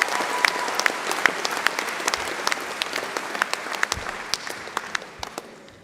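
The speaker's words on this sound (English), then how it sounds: "would you just join me in applauding our musicians who kept you entertained before and after the song?" An audience at a university awards ceremony applauds the musicians, a dense, sustained round of clapping with scattered sharper claps, steady and then slowly tapering.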